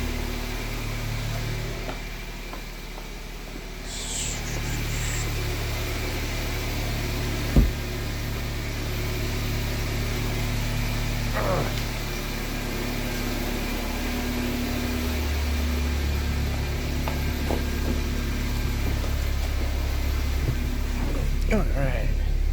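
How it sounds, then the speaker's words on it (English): An 8th-generation Toyota Corolla drives just after a new passenger-side engine mount was fitted, giving a steady low engine and road hum inside the cabin with a few faint clicks and knocks. "So let me drive around a little bit."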